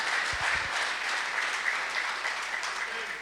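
A church congregation in Addis Ababa applauds during a sermon, with dense, sustained clapping from a large crowd filling the room at a steady level and some voices mixed in.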